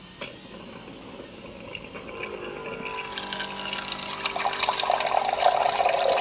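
Water flows from a touch-control refrigerator dispenser: a quiet click and low hum, then a stream pours steadily into a container from about halfway through, growing louder and splashier toward the end.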